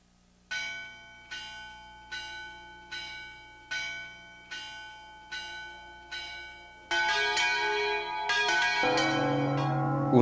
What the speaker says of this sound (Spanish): Un día, la campana de la iglesia repicó a muerto.